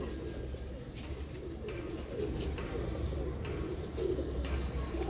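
A Royal Teddy pigeon coos softly, low rolling calls repeating under a steady background hum, fairly faint and close.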